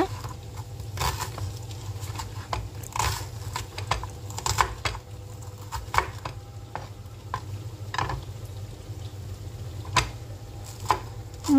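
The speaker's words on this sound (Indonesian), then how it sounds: "saya akan iris-iris bawang bombay untuk bumbunya" Onions are sliced with a knife for a seasoning paste while tofu cooks, giving repeated crisp taps on a board over a low steady hum, close and moderately loud, without speech.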